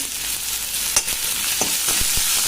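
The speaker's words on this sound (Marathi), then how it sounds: "भाजून घ्यायचा तेलामध्ये आता तुम्ही बघू शकता आपला कांदा छान असा भाजला गेलाय" Finely chopped onion fries in hot oil with a continuous close sizzle, broken by a few short sharp crackles and pops.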